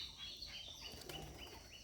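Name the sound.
Rajshahi Giribaz pigeon flapping wings while descending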